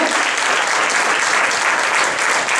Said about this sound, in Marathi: रुक्मिणीबाई, त्यांच्यासाठी जोरदार टाळ्या